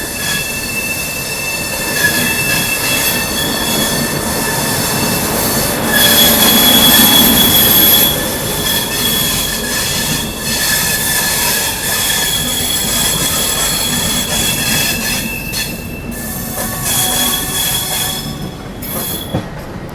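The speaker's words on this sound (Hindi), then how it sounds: "अपनी चेन्नई एक्सप्रेस दोस्तों निकल चुकी है छत्रपति शिवाजी महाराज टर्मिनस से।" Chennai Express pulling out of Mumbai CSMT, its wheels squealing in high, sustained tones over a continuous rolling rumble of the train, loudest midway and steady throughout.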